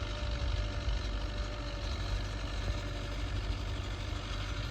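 A tractor engine working a hay field gives a steady, close, low mechanical drone that holds evenly without pauses, with no speech.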